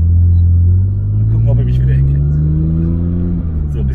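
A supercharged BMW engine rumbles loud and close from inside the car while cruising gently, a deep steady drone with slowly shifting pitch as someone speaks over it.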